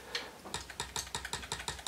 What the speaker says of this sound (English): See this clicking sound that the computer's making?